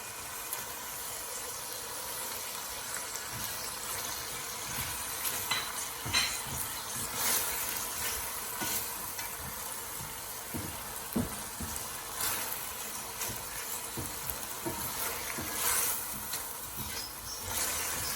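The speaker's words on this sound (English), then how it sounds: "We will also add our bay leaves, cardamom stick and cinnamon." Bay leaves, cardamom and cinnamon sizzling in a pan for a lamb and chana dal dish, a steady close crackle with scattered stirring scrapes and clicks throughout, no voices.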